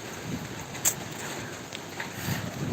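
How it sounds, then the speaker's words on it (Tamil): Strong wind blows hard during heavy rain on an open rooftop terrace, a steady, close rush of gusty noise buffeting the microphone with one brief louder knock. "காற்று மட்டும் ஆனால் பயங்கரமாக அடிக்குது"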